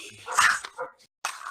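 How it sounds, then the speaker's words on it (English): A dog barking outside an open window, a couple of brief, sharp yelping barks close together, then a short silence and another bark, fairly clear and with no talking over them. "Sorry about that dog, y'all."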